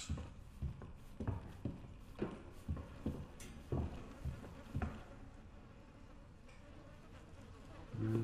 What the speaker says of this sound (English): The little buzzing noises.